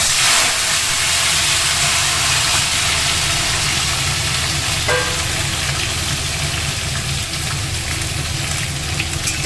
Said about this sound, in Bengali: আলুগুলো ভাজতে ছেড়ে দেবে